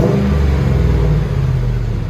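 A Ford F-150 with a 4.6L V8 and Flowmaster HP2 performance muffler gives a deep, continuous exhaust rumble with a slight rev swell, heard close and alone for about two seconds.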